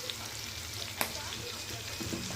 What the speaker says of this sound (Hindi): अब हम केरूंदे को भी मिर्ची के साथ में अच्छे से मिक्स कर लेते हैं।